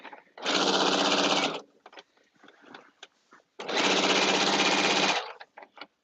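A Bernina sewing machine runs through fabric for a caftan in two loud, sustained bursts of rapid stitching, separated by quiet clicks and handling sounds.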